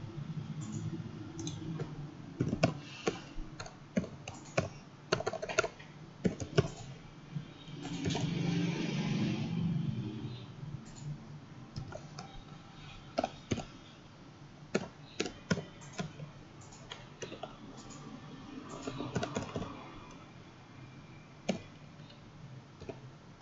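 Computer keyboard typing out an expression in software, heard as irregular bursts of sharp, close clicks and taps throughout, with no voices.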